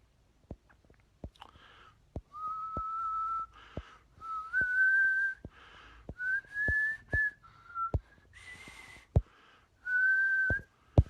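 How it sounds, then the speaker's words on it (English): Someone whistles the carol O Holy Night, slow and wavering, a little off-key, with sharp clicks and taps scattered throughout. "I'm just trying to go through all of them while badly whistling Oh Holy Night"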